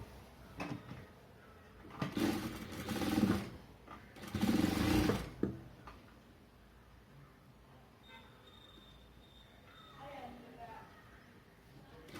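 A sewing machine runs in two short bursts of fast, close rhythmic stitching along a folded blouse neck edge, with a voice speaking between and after the bursts.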